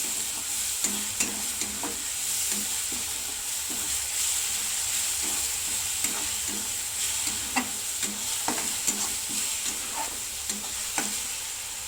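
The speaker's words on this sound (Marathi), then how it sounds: "तर ह्याला आपण छान तेलामध्ये परतून घेऊया।" Green chili paste sautéing in oil gives a steady sizzle under a rhythmic run of spoon scrapes and taps against the pan, close and continuous.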